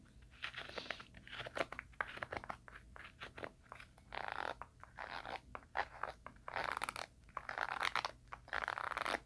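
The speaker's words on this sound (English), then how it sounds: "rough sound zipper" A rough, scratchy zipper is handled slowly up close, giving a steady run of crisp rasping and crinkly clicks in uneven bursts, quiet and intimate with no talking.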